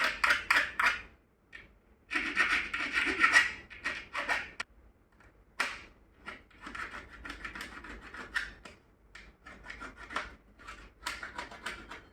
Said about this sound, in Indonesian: Kita kikir sedikit ya biar halus, jadi berkas pinggir-pinggirnya itu rapi.